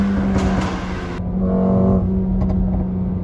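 Engine of a Mercedes-AMG A35 sedan while driving, a steady close drone with a brief swell in pitch partway through, no talking.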